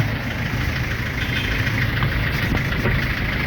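A 2003 Toyota Hiace van engine idling during gearshift repair work, a steady low rumble with a constant mechanical clatter, moderately loud and close, with no one talking.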